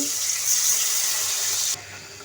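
Water splashes steadily into a pan of fried ginger-garlic paste and turmeric for a couple of seconds, then stops abruptly, leaving a faint low hum.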